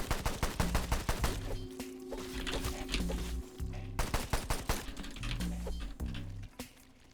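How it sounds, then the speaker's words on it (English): Rapid bursts of automatic gunfire in the video game Sulfur come in quick repeated volleys, loud and close, with short pauses between strings of shots and no talk. "Oh, and they heard the gunfire, didn't they?"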